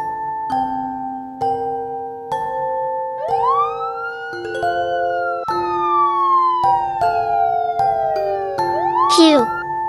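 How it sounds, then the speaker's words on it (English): A sequence of electronic police car siren tones: steady two-note blasts give way to rising and falling wails, ending in a sharp high sweep, loud and continuous. "Yes, it is a police car."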